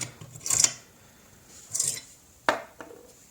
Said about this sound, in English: let's continue or start the filing